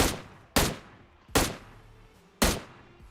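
Gunfire from bots fighting in PUBG, three loud sharp shots spaced about a second apart, each followed by a decaying echo, with no talk over them.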